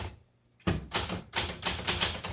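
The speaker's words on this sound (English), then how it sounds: "All right, let's go ahead and type on this." Keys of a 1978 Smith Corona Classic 12 manual typewriter strike in a quick run of sharp clacks after a brief pause, close and loud, with no talking.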